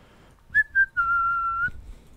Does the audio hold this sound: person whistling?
yes